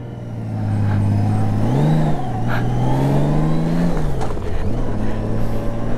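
Engine of a Honda Goldwing GL1800 motorcycle on a test ride, close and loud, rising and falling in pitch through a couple of smooth revs and gear changes, with steady road and wind noise underneath and no talking.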